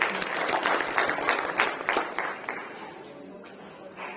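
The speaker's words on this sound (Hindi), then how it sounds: "जोरदार तालियों से स्वागत" A corporate audience at a company award ceremony meeting applauds warmly to welcome a speaker to the stage. Brisk, dense clapping rises at first, then thins and fades over the last couple of seconds.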